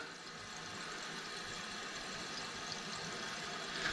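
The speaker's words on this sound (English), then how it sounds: "as it starts filling, it's going to push this float up to the top, and you'll actually hear the water stop" Water runs into a toilet tank through a newly replaced fill valve, a quiet, steady hiss and trickle that holds even for the whole stretch and swells slightly at the very end.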